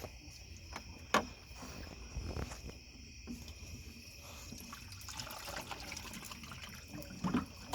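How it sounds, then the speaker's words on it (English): Water poured from a bucket into a backyard pool chlorinator makes a steady low trickle and gurgle, with chirping insects throughout and a couple of brief knocks. "Let it drain a little bit and then pour a little more in."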